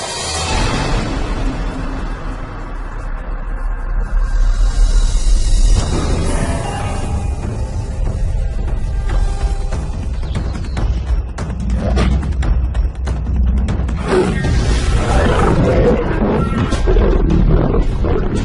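Two intruding male lions roar loudly and continuously in the wild, deep rumbling roars swelling and overlapping over a sustained noisy backdrop.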